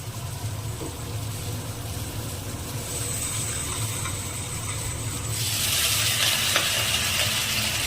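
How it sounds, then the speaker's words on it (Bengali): Chopped spinach is tossed into a pan of frying potatoes, eggplant and bori, bringing a steady close sizzle that swells into a louder, brighter hiss in the last couple of seconds. "এবার এখানে কেটে রাখা পালং শাকগুলো দিয়ে দিচ্ছে।"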